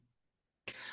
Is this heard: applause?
no